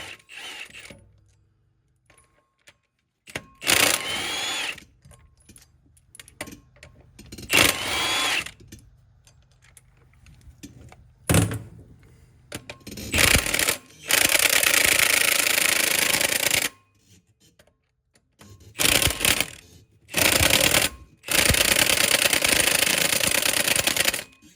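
Power tool driving out 18mm bolts on a 2001 Dodge truck with a 24-valve diesel, loud sustained whirring and rattling bursts of varying length separated by quiet gaps and handling clatter.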